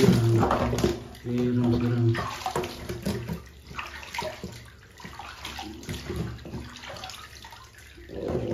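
Running water pours and splashes nearby while washing an ondel-ondel doll's face, a voice talking over it in places, the flow rising and falling as it is poured.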